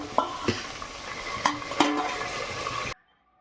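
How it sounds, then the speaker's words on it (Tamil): Sliced medium tomatoes sauté in a pan for sambar rice, with a steady sizzle and a few sharp scrapes of a stirring spoon before the sound cuts off abruptly. "இப்போது தக்காளி நல்லா வதங்கட்டும்."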